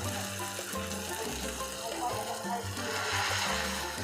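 Skewered meat for sisig fries and is stirred in a pan until crispy, a steady close sizzle running throughout with occasional scraping under a person talking.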